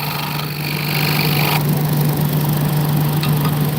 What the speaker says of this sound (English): Now my truck's doing a regen again. It's making noise, revving up.